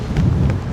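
Strong wind buffeting a microphone outdoors, a short, loud, steady rumbling roar with gusty swells.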